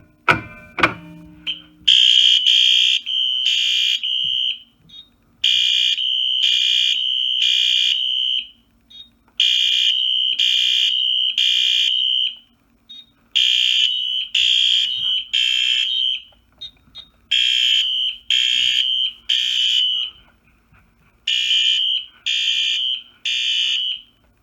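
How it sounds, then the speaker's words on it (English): Fire alarm notification horns blare in a repeating temporal pattern of three loud tones and a pause, sounding continuously and close after a pull station is activated, with a brief clatter at the start. "we're just going to leave an alarm and pull the notifier"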